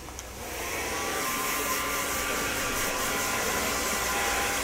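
Hair dryer blowing while rough drying hair, a steady loud rushing whoosh that swells up in the first second and then runs continuously with no talk.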